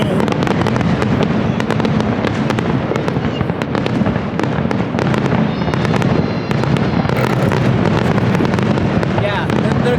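Town fireworks for the 4th of July burst continuously and loudly, dense overlapping crackles and booms filling the whole stretch, with people's voices faintly mixed in.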